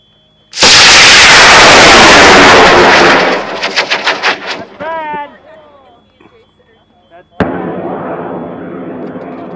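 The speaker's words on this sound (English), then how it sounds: "Flying a rocket, the SRA rocket, flying an L-2375." An SRA model rocket on an L-2375 motor launches with a sudden, loud, roaring blast lasting about three seconds, then trails off into fading crackles and distant noise before another sharp burst near the end.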